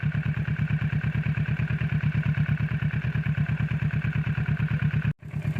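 A Kawasaki Z650 motorcycle engine idles after warming up, a steady close low thrum of even rapid pulses that cuts briefly near the end before resuming.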